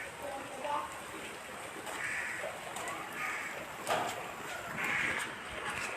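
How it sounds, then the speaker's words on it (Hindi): Steady rain hisses throughout, a broad wash of falling water with a few brighter spatters, moderately close and continuous. "बारिश है कि रुक ही नहीं रही"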